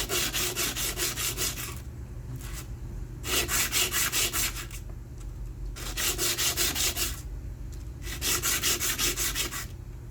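Steady back-and-forth sandpaper rubbing as a square frame is sanded by hand, in four long strokes with brief pauses, close and fairly loud, no talking.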